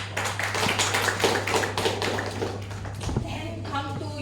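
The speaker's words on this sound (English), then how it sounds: "Okay, good round of applause." An audience at a speakers' forum meeting breaks into steady, dense applause, many hands clapping together for about four seconds before it thins out near the end, with faint voices mixed in underneath.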